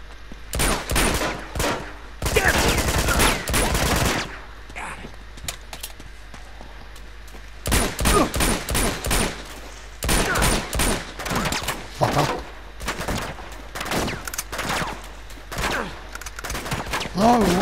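Rifle gunfire in the Uncharted 2 video game, loud repeated bursts and rapid volleys of shots across the whole stretch, some dense and sustained, with brief lulls between.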